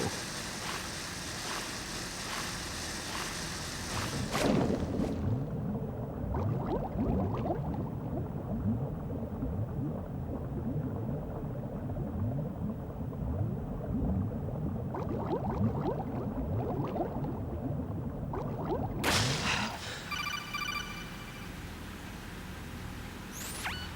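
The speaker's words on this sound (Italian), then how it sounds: "The seawater that's been pumped up is pouring into the building." Seawater pouring into a flooded building in Metal Gear Solid 2, heard as a continuous rushing, splashing wash with bursts of sharper sound at the start and near the end.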